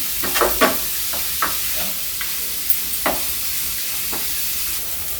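Sliced onions sizzle and hiss steadily in a hot pan as they fry to light brown for dum aloo, with several sharp scraping stirs near the start and scattered spatula knocks against the pan, and no talking.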